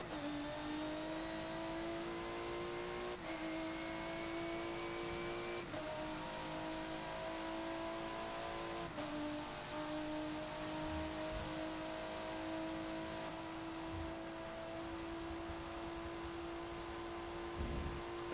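A Porsche GT race car in Forza Motorsport 7 revs at high pitch through long steady pulls, with brief dips at gear shifts and a continuous whining engine tone that holds throughout.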